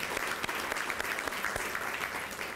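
Steady applause from a luncheon audience at an environmental awards event honoring schools, a dense even patter of many hands, moderately distant and continuous throughout.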